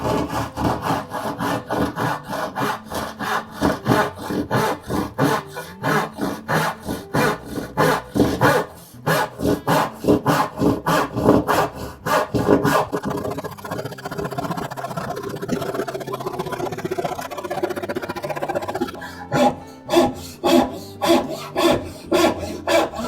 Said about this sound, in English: I'm cutting on the scrap side of the line and cutting as close as I can to it.